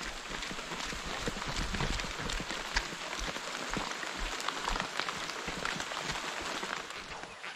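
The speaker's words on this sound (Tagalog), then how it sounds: "pakalakas po ng ulan, ako po yung basa na ng ulan" Heavy rain pours down steadily with a dense, continuous hiss and scattered drip and splash impacts, close and unbroken for the whole stretch, with no talk.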